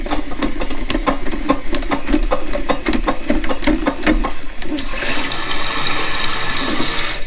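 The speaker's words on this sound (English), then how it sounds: "I'm going to turn this little guy counterclockwise until I can get a little bit more water going on in here." A toilet tank refilling through a newly adjusted Fluidmaster fill valve, a steady close rush of running water with small clicks and rattles early on, turning into a brighter, hissier flow in the last couple of seconds.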